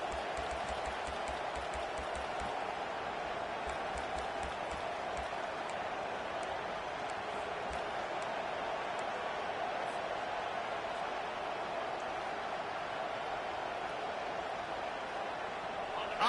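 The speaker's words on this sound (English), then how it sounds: "with this place rocking, the crowd forces a false start" Stadium crowd at a college football game, Alabama playing, roaring in a steady, dense wash of noise that holds at the same loud level throughout.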